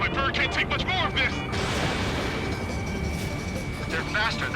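A heavy, sustained missile explosion with rumbling roar and crackling debris fills the clip, mixed with whining jet engine tones and sound effects from the game Ace Combat 7: Skies Unknown.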